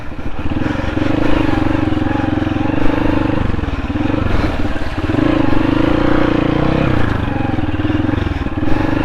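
Off-road motorcycle on a rough road near Rangamati, its engine droning steadily and close throughout, rising and easing with the throttle and carrying a low rumble.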